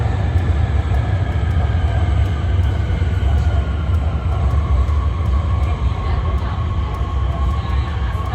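Subway train in China running at steady speed, a continuous loud low rumble with rail noise and faint clicks throughout, no voices.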